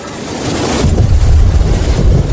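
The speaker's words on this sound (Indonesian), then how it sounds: "Atau suara hujan yang sangat deras," Very heavy rain as a sound effect, a broad steady roar that swells louder after the first moment and holds without any voices.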